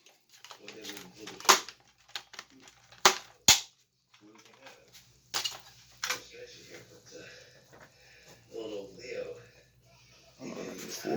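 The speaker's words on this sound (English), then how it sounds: "let's do about 4 more shots and see if the number will go up a little bit" Adventure Force Nexus Pro foam blaster, running a stock compressed spring, fires several sharp snapping shots at irregular intervals, close and loud, with a person talking between the shots.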